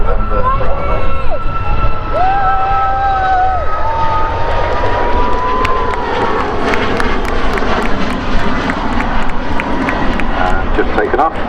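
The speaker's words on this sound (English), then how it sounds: "just taken off, Boeing 737 MAX 8-200 belonging to Ryanair, and that's on its way to Ibiza" A Ryanair Boeing 737 MAX 8-200 jet taking off from Manchester Airport gives a loud, close engine roar with rising and falling whine tones, while people talk nearby.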